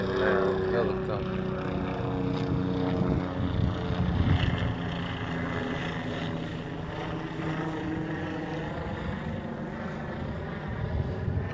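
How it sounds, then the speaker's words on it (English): A helicopter's steady throbbing drone fills the background, with a person talking intermittently over it. "not that loud helicopter"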